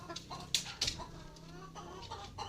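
Hens cluck inside a farm coop as they come in to lay eggs, giving a few close, irregular bursts of clucking over a low background rustle.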